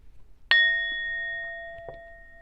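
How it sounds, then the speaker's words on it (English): A small bell struck once with a bright metallic ding that rings on clearly and decays slowly in a quiet room, followed by a faint soft tap near the end. "let's ding the bell."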